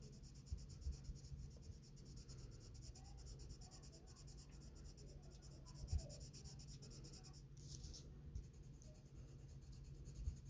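Hand coloring on paper with firm pressure, a faint, close scratchy scrubbing of the pencil tip moving back and forth in a quiet room, steady with a few soft taps.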